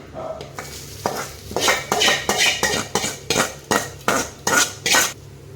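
Chickpea sundal with carrot and tempered chillies is stirred in a metal pan, giving about ten steady, rhythmic scraping strokes of a spoon against the pan, close and fairly loud, with no talking.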